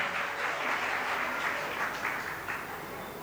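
An audience claps throughout at an aarti felicitation ceremony in Dhar, Madhya Pradesh, producing dense, continuous applause that swells and fades slightly over a few seconds, with no speech on top.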